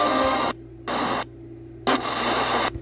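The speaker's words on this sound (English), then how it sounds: "Right now we're scanning channels." A spirit box radio scans through channels in choppy bursts of static and hiss, cutting in and out in short blocks separated by near-silent gaps.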